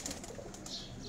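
Pigeons taking off from a rooftop loft make a soft, quick fluttering of wings, quiet and somewhat distant, with light rustling bursts spread across the short moment.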